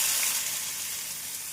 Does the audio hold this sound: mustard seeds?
yes